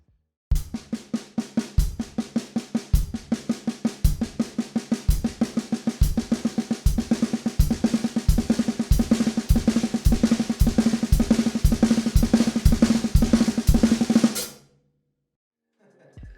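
A drum kit plays a fast, steady paradiddle-diddle sticking pattern of repeated snare and tom strokes with regular accented hits, running continuously for about fourteen seconds before stopping.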